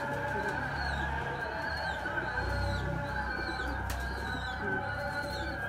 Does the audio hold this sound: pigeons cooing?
yes